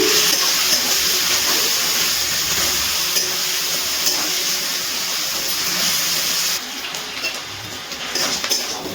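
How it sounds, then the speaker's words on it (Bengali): Oil sizzles loudly and steadily as shrimp fry over a high gas flame, a continuous crackling hiss that eases slightly near the end, with no voices. "গ্যাসের ফ্লেমটা হাইতে দিয়ে চিংড়ি মাছগুলো ভেজে নিচ্ছি।"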